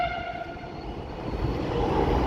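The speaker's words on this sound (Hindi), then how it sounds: "एंड मेट्रो आ गई" A metro train pulls into an elevated station in Gurugram, its horn sounding at first as a steady tone that fades while the rumble of the approaching cars grows louder toward the end.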